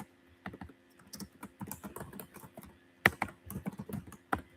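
Typing on a computer keyboard produces quiet, close, irregular key clicks in bursts, with a few sharper taps standing out and no voices.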